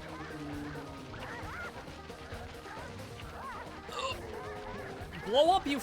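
Birds in the Sly Cooper video game honk repeatedly amid crashing game effects, with a busy mix of squawks and a louder burst near the end.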